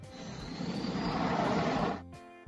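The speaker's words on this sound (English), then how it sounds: "Airplane." A broadband airplane roar swells and holds steady for about two seconds, then cuts off abruptly into a brief tonal fade, loud and alone with no talk.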